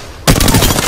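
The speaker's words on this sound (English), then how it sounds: "Getting shot at." Automatic weapon fire from the Apex Legends battle royale game erupts suddenly and loudly after a brief quiet moment, continuing as a fast, steady burst of close shots.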